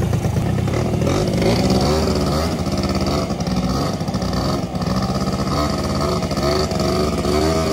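A motorcycle engine fires up and revs hard, a loud, close, continuous roar with rising and falling throttle bursts throughout.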